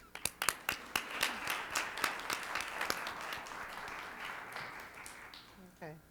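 Applause breaking out at a school district governing board meeting for retiring employees, a burst of scattered hand claps that swells into steady clapping from a modest crowd indoors, fading out as a voice begins speaking at the end.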